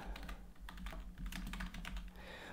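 Steady typing on a computer keyboard while entering formulas into an Excel spreadsheet, a rapid run of close, crisp key clicks with a low hum underneath and no voices.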